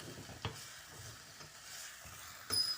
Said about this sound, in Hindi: मैं आलू को थोड़ा थोड़ा मैश कर रही हूँ